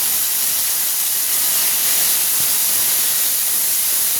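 Curry leaves and mango pieces sizzle in hot mustard oil, a loud continuous bright hiss of frying that holds steady throughout with no talking.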